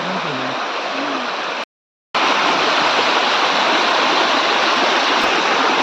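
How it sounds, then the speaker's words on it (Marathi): Waterfall in a dense forest, a loud, constant roar of falling water heard up close, cut by a brief silent gap before the roar resumes; faint voices are buried underneath. "खाली धबधबा आहे"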